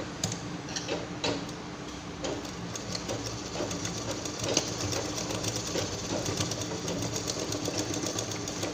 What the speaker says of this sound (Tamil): கிளாத்தில் நல்ல பக்கம் வச்சுட்டு இங்கேருந்து இங்கே வரைக்கும் நல்லா ஸ்ட்ராங்காக தையல் போட்டுடலாம்